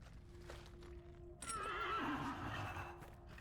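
A horse in the video game Dragon Age: Inquisition gives a loud, wavering whinny after a low steady tone, with hoof clatter mixed in and no talk.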